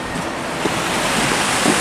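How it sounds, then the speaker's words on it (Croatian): Small waterfalls near Sarajevo at New Year give a steady, close wash of rushing water that stays even and unbroken with no voices. "Evo dola neki slapići."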